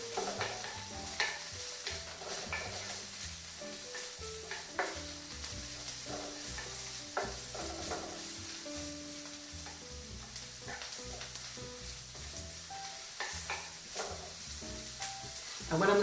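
Sliced green peppers sizzle steadily in a hot pan, cooking for a keto chicken fajita, with a continuous frying hiss under loud background music.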